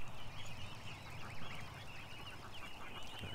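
Geese honk on and off in the middle distance outdoors by water, their calls mixed with steady background noise and a low rumble, with no talking.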